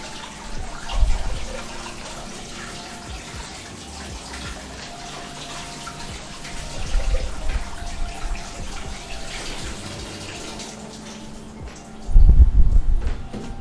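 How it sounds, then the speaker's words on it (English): Tap water runs steadily into a sink while food is rinsed, a continuous hiss and splash that swells at a few points, loudest near the end as the flow strikes the food. "we're just gonna rinse them off again one more time"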